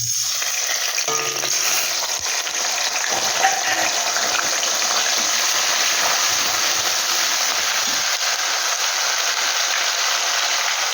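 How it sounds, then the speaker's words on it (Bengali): Green chilli and ginger paste sizzle hard in hot oil as a tempering, a loud, even frying hiss that holds steady from start to finish, close up and without talk. "এখানে আমি ফোড়ন দিয়ে দিচ্ছি দেখো কাঁচা লঙ্কা আর আদা বাটা"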